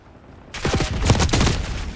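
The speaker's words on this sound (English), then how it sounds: "Enemy sniper shooting." Enemy sniper fire in the Black Ops 6 video game, a burst of loud, sharp cracks arriving in quick succession after a quiet half-second, with the gunfire ringing on at the end.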